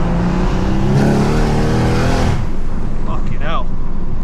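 A big-turbo BMW M140i engine roars under hard acceleration in third gear, loud and close, then the revs drop sharply with a whoosh as a gear changes, followed by a fainter rising pitch.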